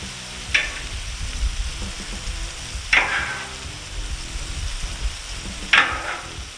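Onions sizzle on a hot griddle beside a patty melt, a steady close crackle broken by three sharp spatula scrapes spaced a few seconds apart.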